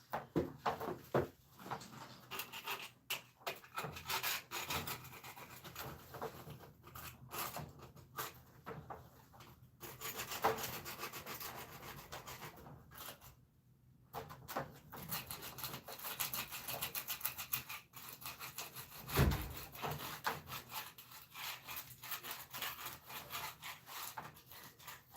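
Rough scraping of a hand scraper across wood, in repeated rasping strokes with short pauses, fairly close and steady, with no talk over it.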